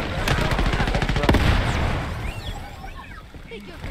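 Rapid gunfire bursts from a sniper and other weapons in the shooter game Shatterline, loud and dense for the first second and a half, then fading into scattered distant shots and effects.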